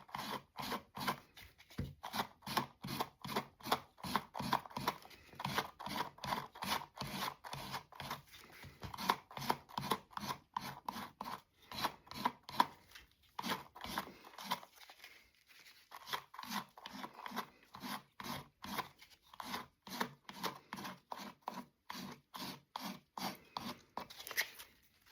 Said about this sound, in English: You're just going to take your sandpaper and lightly go around the edge.